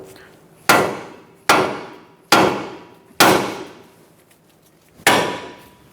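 Hammer taps knocking a tie rod free of the steering knuckle on a 2012-2019 Fiat 500, five sharp metallic strikes spaced about a second apart, each ringing briefly before fading, close and loud with no talking.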